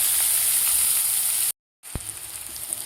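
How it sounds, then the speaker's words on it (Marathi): Onion sautéing in hot oil with curry leaves and asafoetida in a pan, giving a steady close sizzle that cuts out briefly and then resumes. "आता व्यवस्थित आपल्याला कांदा परतून घ्यायचा आहे"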